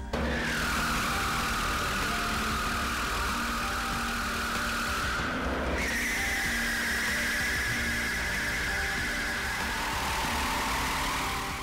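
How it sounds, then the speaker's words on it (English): Michelin's tire torture machine running a Bugatti Veyron tire on a test rig, giving a loud, steady mechanical drone with a sustained whine that briefly drops out and then resumes at a slightly higher pitch. "Part of what you're paying for is the use of what Michelin calls its tire torture machine."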